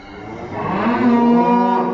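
A Belgian Blue suckler cow moos on a farm, one loud, close, drawn-out low call that swells toward the end, with no one talking.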